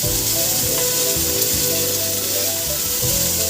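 Pointed gourd (potol) pieces fry in hot oil, a loud, close, continuous sizzle with occasional stirring sounds, no voices over it.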